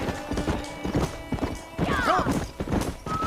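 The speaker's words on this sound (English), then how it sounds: "É meio um pouquinho complicado de controlar o cavalo aqui." Horse hooves gallop in a rhythmic clip-clop in the Red Dead Redemption video game, with a horse whinnying partway through and speech mixed in.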